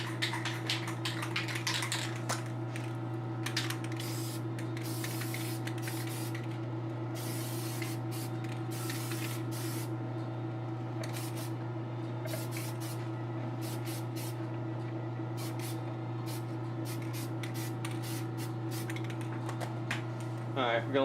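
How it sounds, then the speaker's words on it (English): Short hissing bursts of Testors Dull Coat sprayed from an aerosol can in light dustings, repeated through the clip over a steady electrical hum in a hobby painting setup. "I'm going to hit it with a dusting or a spray of Tester's Dull Coat"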